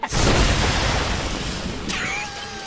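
A loud video game explosion bursts in a big boom right at the start, then a long rumbling roar that slowly fades, with a thin whistling tone appearing near the end.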